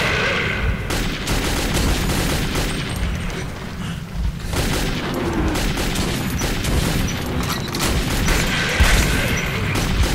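Rapid bursts of gunfire and booming shots ring out continuously in the Metro 2033 video game, loud and dense with crashing impacts layered together.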